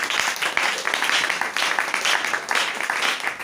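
A church congregation applauding during a Sunday worship service, steady, dense clapping from many hands that stays loud and continuous throughout, with faint voices mixed in.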